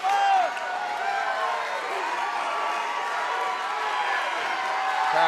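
Fight crowd roaring and cheering in an arena during a bout between Tim Rusk and Zach Saylor, a dense sustained wall of voices and whoops with no single voice standing out.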